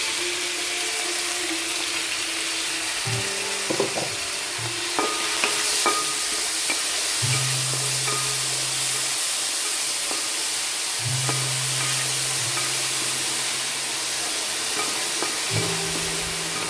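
Crushed ginger, garlic, onion and green chilli sizzle in a hot pan for a Kerala-style chicken stew, a loud, continuous frying hiss broken by scraping stirs and occasional clinks of a spoon against the pan.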